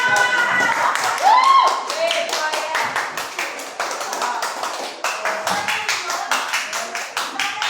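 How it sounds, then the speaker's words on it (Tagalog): A group claps their hands, first in a loose burst and then in a steady rhythmic run of sharp, close claps, with some voices mixed in early on. "Papalakpak na lang kasi."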